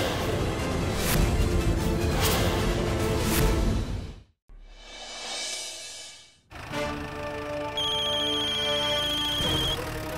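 A phone ringtone plays over a loud, busy music-like background in a Hindi TV serial scene, with a brief sweeping whoosh partway through before the ringing tone continues.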